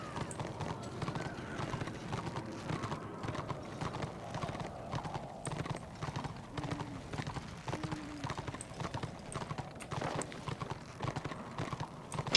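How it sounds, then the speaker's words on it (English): Steady clip-clop of horse hooves trotting along in the video game Return of Reckoning, a continuous rhythmic patter at moderate volume with faint voices in the background. "Here again, the horse."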